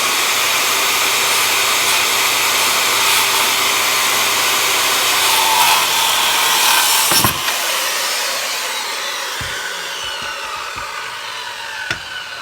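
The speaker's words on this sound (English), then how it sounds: "Then I'm going to fire up the saw, touch the wood with it" A power saw cuts through a wooden deck board with a loud, sustained whining buzz, then winds down into quieter knocks and handling sounds.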